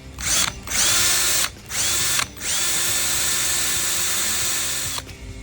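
A power drill spins up in short bursts while drilling a hole on a 1957 Pontiac Star Chief, stopping and restarting a few times before one longer, steady run that winds down at the end.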